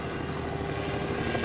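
An aerobatic airplane making a high-speed pass at a 2004 Sussex airshow: a steady, fairly loud engine and propeller drone holds throughout the brief moment, with no voices.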